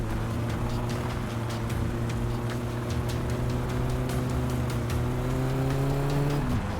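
A car engine in the video game My Summer Car, driven in a rally, holds a steady droning revving tone that climbs slightly in pitch and then drops off abruptly at the end, with faint game background noise.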